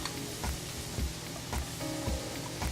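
Leafy greens and cooked-down red stems sautéing in a pan, a steady sizzle broken by rhythmic soft knocks of stirring roughly every half second, close and alone.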